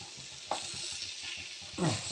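Thick mukkutti lehyam paste being stirred and pushed around a pan, a soft close scraping and sticky sizzle with a couple of louder spoon strokes.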